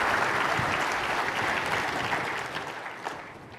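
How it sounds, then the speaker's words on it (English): Keynote audience at Automation Anywhere's Imagine 2026 gives a big round of applause, a dense, loud wash of clapping that holds steady and then gradually fades toward the end. "Please give Julian a big, big round of applause."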